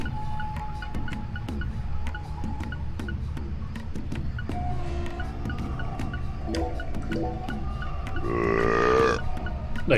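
A long, gurgling burp rises loud near the end of a stretch of game ambience from Deadly Premonition 2, preceded by a few shorter rumbling grunts and scattered clicks.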